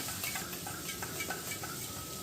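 Spice paste sizzles and is stirred in hot oil in a pan, a steady soft frying hiss with faint scraping of the spoon, low and continuous with no one speaking.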